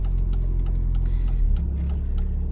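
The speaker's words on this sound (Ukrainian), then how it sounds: "Вмикаємо лівий покажчик повороту" A car's turn signal ticks in a steady, evenly spaced rhythm inside the cabin, sitting over the low hum of the idling engine, with no one talking.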